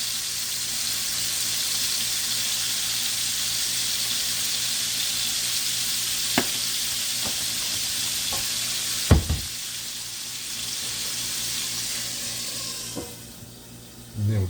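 Sandhill crane meat seasoned with Lawry's and coarse ground black pepper sears in rendered grease in a pan over medium-low heat, giving a steady close sizzle broken by a few soft knocks and one sharp clunk near the end.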